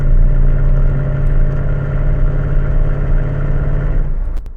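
Car engine held on throttle at a steady 2000 rpm for an Assetto Corsa sound mod, a continuous loud, even drone with background noise and no change in pitch, ending abruptly.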